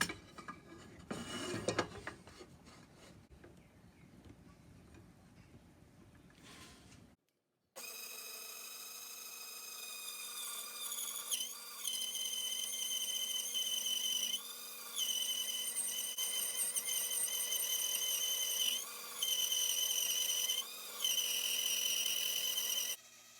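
A small wood piece for the deck beams of a HMS Thorn ship model is cut with a small power saw. After a quiet start, a steady high whine runs continuously, with several brief dips as the blade bites the wood.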